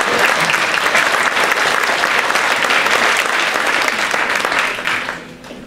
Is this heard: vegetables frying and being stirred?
no